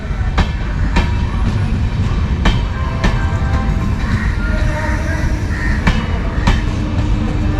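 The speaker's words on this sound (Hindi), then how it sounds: "तो ट्रेन ऐशबाग जंक्शन से डिपार्ट कर चुकी है।" A Gorakhpur Mailani Express with new LHB coaches pulls away from Aishbagh Junction, its wheels beating a loud, regular clickety-clack over rail joints against a constant rolling rumble heard from inside the train.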